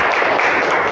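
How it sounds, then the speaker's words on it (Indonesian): Applause from a classroom audience as a dense, steady patter of many hands clapping close by, loud and continuous for a brief moment. "Kasih tepuk tangan."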